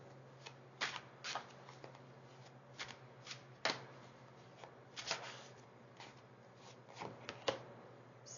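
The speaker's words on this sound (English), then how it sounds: "I'm going to actually pull all of your tarot cards" Tarot cards are shuffled close by in a quiet room, a series of short papery riffles and flicks coming in irregular bursts over a faint steady hum.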